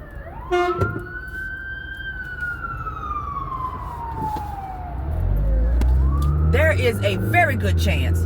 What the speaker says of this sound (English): that's the fire trucks. You know, we got a fire up the street here.